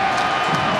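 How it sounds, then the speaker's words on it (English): Dense stadium crowd noise at a soccer match, a steady roar of many voices in a brief burst with no distinct claps or peaks. "the response from the crowd is evident"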